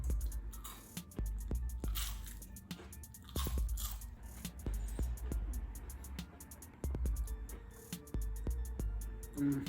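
Close, crisp crunching of a potato chip being bitten and chewed, with bursts of sharp crackles at irregular intervals over about ten seconds, alone without talk.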